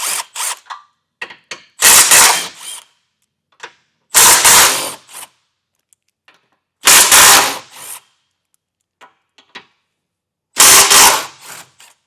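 A power tool, likely an impact wrench, zips out the 15 mm bumper beam bolts on a 2025 Chevrolet Trax in four loud, separate bursts of about a second each, with small clinks of handling between them.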